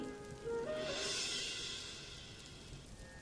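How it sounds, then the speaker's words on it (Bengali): Steady rain hisses in a broad wash of noise, swelling briefly and then easing slightly, with faint tonal hum beneath. "এত বৃষ্টি হচ্ছে, কিন্তু গরমটা যেন যায় না"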